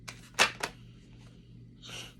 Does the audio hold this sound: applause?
no